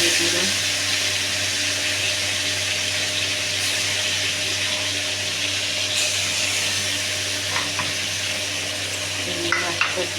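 Shrimp fry in hot oil with a continuous close sizzle and crackle, steady throughout, with a few small clinks and stirring knocks toward the end.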